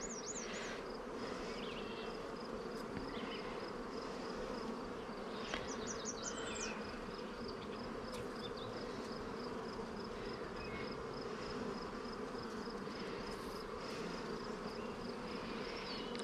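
Honeybees buzz continuously around an open hive during an inspection, a dense steady drone with individual bees whining close by now and then, no talk.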